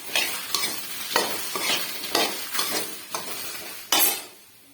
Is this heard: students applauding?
no